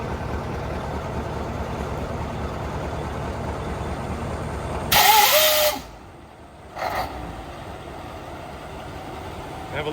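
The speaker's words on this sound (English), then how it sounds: "Have a listen to that, the old 866 fire straight up." An old Mack F700 truck with an 866 engine and a rough, agricultural exhaust setup: a steady rumble runs throughout, broken by a loud, sharp burst at start-up, a brief drop, then another surge before settling back.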